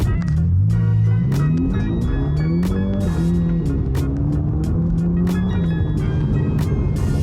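A 2022 Ferrari Roma pulls hard from inside the cabin, its engine tone climbing and shifting through the gears at a steady loud level with no talk over it.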